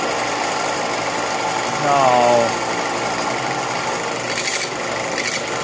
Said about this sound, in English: now we're ready to start the grinder and clean up those welding rods